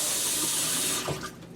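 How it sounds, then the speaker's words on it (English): Water runs steadily from a basement sink tap, a loud close hiss that cuts off partway through, leaving a faint trickle and low room noise. "Let's get this hot water here to work."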